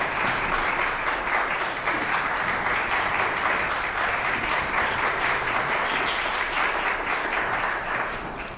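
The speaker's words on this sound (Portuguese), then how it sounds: "uma salva de palmas para o maestro Emiliano" An audience applauds the conductor at an open class with a symphony orchestra, a dense, steady roar of clapping from many hands that holds at even loudness and starts to fade only at the very end.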